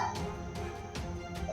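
Stray dogs bark in a street, several sharp barks spaced roughly evenly, fairly close and loud, standing alone without talk.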